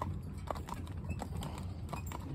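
Hooves of a cob pulling a cart clip-clop in a steady walking rhythm on a road, moderately close over a soft background hiss.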